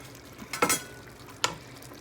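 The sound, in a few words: green chilies added to frying chicken karahi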